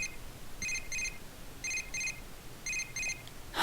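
A phone rings in the Persona 4: Dancing All Night video game, with three paired bursts of an electronic trill spaced evenly, moderately loud and alone, before a short sharp sound at the end.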